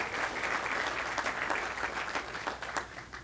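A crowd at a town center groundbreaking ceremony claps steadily for about three seconds, a dense, sustained round of applause with no voices above it.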